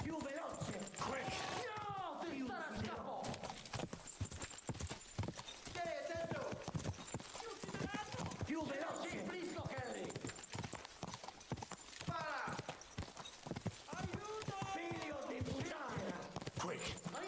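Horses gallop in Kingdom Come: Deliverance II, a steady rapid clip-clop of hooves with an occasional whinny, all under continuous urgent talk.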